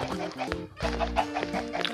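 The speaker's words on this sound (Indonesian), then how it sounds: "di sini tuh ternyata kandang ayam" Chickens in a coop in the Minecraft video game, several short clucks and squawks in quick irregular succession, fairly close, with soft background game music and no talking.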